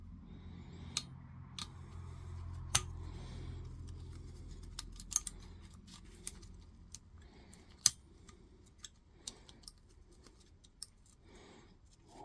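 Scissors snip through material being cut to size during a Makita 18V LXT battery repair, giving sparse, sharp clicks and cuts spread over a quiet background.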